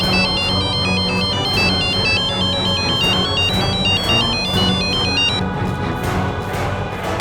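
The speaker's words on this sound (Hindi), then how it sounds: "फोन उठाओ" A mobile phone ringtone rings loudly and steadily in a tense drama scene, its repeating electronic melody continuing alone without voices for several seconds.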